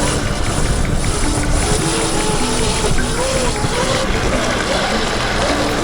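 A drift kart rolls over cobblestones downtown at night, producing a loud, continuous rattling rumble with a droning engine tone weaving through it, close and unbroken.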